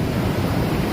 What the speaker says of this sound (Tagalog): Pinapakinggan lang namin yung mga alon Trippers.